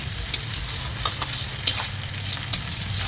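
Ash gourd frying in a pan and being stirred, with a steady sizzle broken by several sharp spatula scrapes and taps, close and moderately loud, with no talk.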